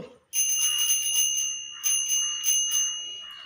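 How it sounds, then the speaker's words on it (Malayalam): A school's first bell rings in bright, tinkling bursts, a sustained ringing for over a second, then two more short peals after a pause, close and fairly loud with no talk. "ഫസ്റ്റ് ബെൽ അടിക്കുന്നു."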